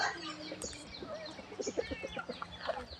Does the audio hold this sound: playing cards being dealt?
no